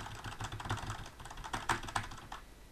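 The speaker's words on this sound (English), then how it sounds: "here's me typing on a Cherry MX Brown keyboard" Loud, forceful typing on a mechanical keyboard with Cherry MX Brown switches, close-up, with dense rapid keystrokes and a few heavier clacks standing out, no voices.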